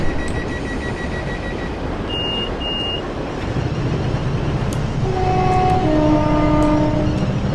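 A London Midland passenger train in Train Simulator 2018 pulls away from a snowy Trent Valley station, its low motor rumble building steadily, with a door-warning beep early on and rising electric traction whine later.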